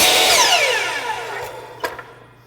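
A saw blade winding down after a miter cut in wood, a loud whining tone that falls steadily in pitch and fades, followed by a couple of brief knocks, up close.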